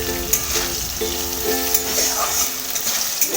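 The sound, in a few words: potatoes frying in a pan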